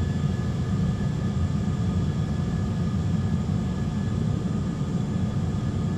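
Airbus A320 jet engines roaring steadily through the takeoff roll, heard from inside the cockpit as a continuous, loud, broadband rumble with no speech.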